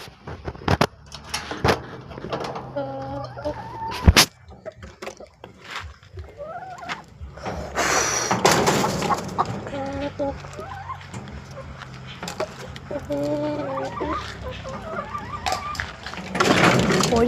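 Chickens around a broken-down coop, being given poultry feed, let out intermittent clucking calls between sharp knocks and thumps, with occasional voices nearby.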